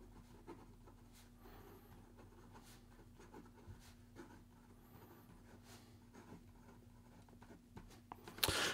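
A broad-nibbed fountain pen scratching steadily across paper, faint and close with soft continuous strokes and no talking.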